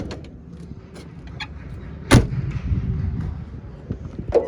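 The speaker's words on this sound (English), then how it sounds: "pop the hood here" A single sharp clunk as the hood of a 1972 Jaguar XJ6 with a 350 engine is popped open, standing out briefly over a steady low background rumble.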